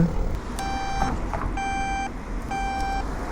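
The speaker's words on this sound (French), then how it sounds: "les clignotants sonores, très sonores aussi" Turn-signal beeper on a Nipponia electric scooter, sounding three evenly spaced, loud, high electronic tones, each about half a second long, over a steady low background hum, with no talking.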